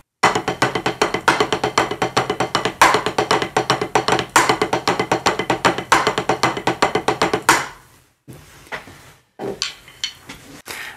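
Drum pattern played on a Mandala electronic pad with snare ghost notes in Swiss Army triplets and accents on three, a dense rapid run of sharp, close percussive hits that breaks into sparse strokes near the end.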